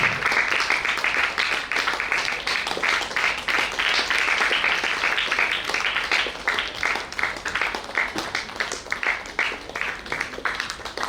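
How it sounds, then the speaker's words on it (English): Sustained audience applause at a school show premiere, rhythmic clapping from many people that continues strongly for about eleven seconds with slight swells and dips. "Let the applause continue."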